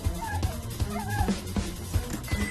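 Cartoon dogs bark, yip and whimper in quick repeated bursts throughout, fairly close and loud over a busy animated soundtrack.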